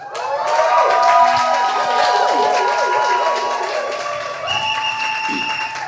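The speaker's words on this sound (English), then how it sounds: "could you give her another round of applause?" Audience applauding and cheering after a speech at a church inspirational event: sustained clapping from a sizeable crowd with whoops and shouts, steady and loud throughout and tapering slightly near the end.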